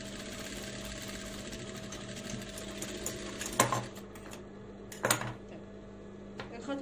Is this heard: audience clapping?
no